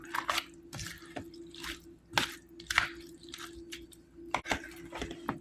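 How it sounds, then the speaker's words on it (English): A soupy broccoli and tomato salad is stirred in a bowl, producing wet squelches, drips and utensil clinks in irregular bursts, close and moderately loud with quiet gaps between. "Just stir it around a bit."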